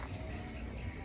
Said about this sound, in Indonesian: kalian bisa dengar sendiri ya untuk suara jangkrik, kodok